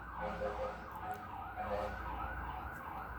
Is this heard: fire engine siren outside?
yes